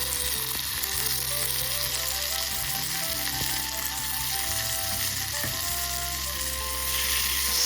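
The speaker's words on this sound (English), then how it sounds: "First, stir fry the garlics until brown." Garlic sizzles steadily in hot oil in a pan, with the frying holding an even level throughout. Low-pitched tones from something else hum underneath.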